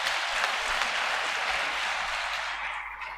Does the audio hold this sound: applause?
yes